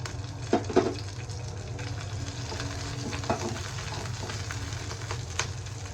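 A halved green chili frying lightly in a small amount of oil, giving a steady low sizzle with a few louder crackles and stirring clicks, no voices.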